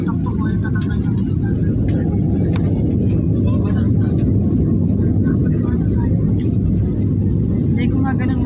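Airplane cabin noise during descent: a loud, constant low engine rumble and roar fills the whole passage, with faint clatter and voices murmuring underneath.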